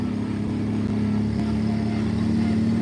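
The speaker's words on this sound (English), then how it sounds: "What sound is that? The sound of the tractors?" Antique tractor engines roar at a tractor pull at a West Virginia farm museum, a steady loud drone with a low pulsing throb that holds without a break, close by and without talk.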